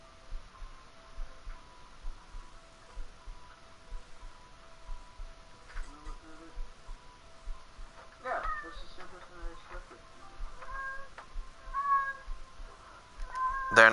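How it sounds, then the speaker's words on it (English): A pet cat gives several distinct meows, close and fairly loud, in the later part of a quiet room during a live PS4 game broadcast, with a soft steady ticking underneath and faint speech. "Is it your cat, Meow"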